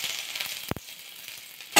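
Garlic and ginger fry in a spoonful of hot oil, giving a steady close sizzle broken by a sharp knock of a utensil partway through and a brief louder burst at the end.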